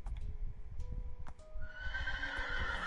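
A Minecraft horse gives a clear, drawn-out whinny in a game world, with faint hoof clip-clops ticking under it.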